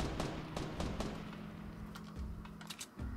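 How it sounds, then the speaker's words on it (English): Rapid gunfire bursts from the video game Fortnite crackle in short clusters over a steady low game hum, with several sharp shots spaced across the moment, moderately loud and close. "they're shooting at someone else"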